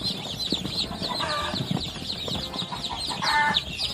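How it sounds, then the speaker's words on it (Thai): Three-day-old baby chicks of a domestic backyard breed peep and chirp steadily, many overlapping calls close by in a busy brood of over a hundred birds, with light rustling and faint wing flutters. "ลูกไก่อายุแรกเกิดถึง 3 วันนะครับ"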